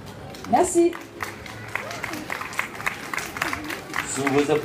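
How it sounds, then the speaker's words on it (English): Audience applause and crowd noise at a local karaoke performance after a female local singer finishes her song, with scattered clapping and cheers under a voice talking throughout. "Sous vos applaudissements"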